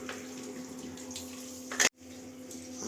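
Tap water runs steadily into a sink or basin as someone is rinsed, a soft continuous splashing hiss that cuts off abruptly near the end, then resumes more quietly.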